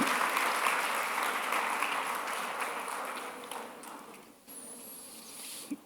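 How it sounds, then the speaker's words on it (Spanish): Congregation at a church service giving a strong round of applause for the Lord, a full dense clapping wash that slowly thins and fades near the end, with a brief pause and faint stray sounds after. "Vamos a darle un fuerte aplauso al Señor."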